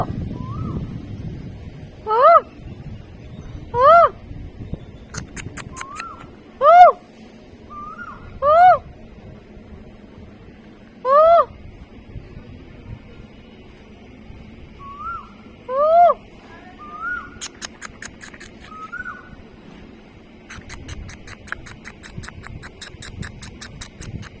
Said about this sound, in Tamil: மயில்